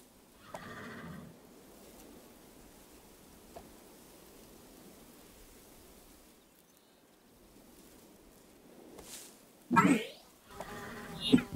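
A horse in the Barbie Dreamhouse Adventures video game whinnies in short bursts near the start and again loudly toward the end, with soft hoof-like clops and quiet stretches between.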